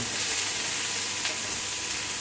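Tinned plum tomatoes being stirred into a sizzling chicken curry in a pan, a dense steady frying hiss with no talking.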